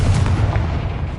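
A Confringo blasting spell from Hogwarts Legacy goes off as a single booming explosion with a heavy low rumble, loud and close, dying away within about a second.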